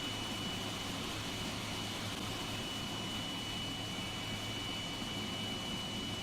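Boeing 777 jet engines in the X-Plane 11 flight simulator give a steady, dense roar with a constant whine, loud and unchanging throughout, with no voices.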